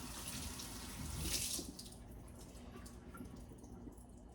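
Water from a running kitchen faucet splashes steadily into a sink while something is rinsed, a constant close hiss that swells briefly and then settles down.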